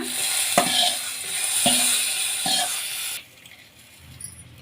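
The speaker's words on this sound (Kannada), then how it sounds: "ಈಗ ಒಗ್ಗರಣೆನ ಮಜ್ಜಿಗೆಗೆ ಹಾಕೊಳ್ಳೋಣ" A loud, crackling sizzle with a few sharp clinks as a hot spice tempering is poured into buttermilk, cut off abruptly and followed by quieter background noise.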